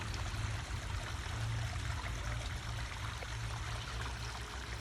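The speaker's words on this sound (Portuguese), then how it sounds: "Aqui nós temos um lago com uma cascata." A small waterfall cascades into a garden pond, a steady close trickling and splashing rush that runs unbroken and alone without voices.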